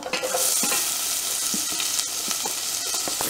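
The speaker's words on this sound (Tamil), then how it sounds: "நம்ம நறுக்கி வச்சிருக்கிற இந்த வெங்காயத்தை போட்டுக்கலாம்" Chopped onions fry loudly in a hot pan with curry leaves, a steady crackling sizzle with occasional stirring scrapes, close up and without talking.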